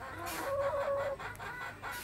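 Chickens on a small farm plot give a brief, soft vocal call, a single drawn-out clucking note over quiet outdoor background, faint and close.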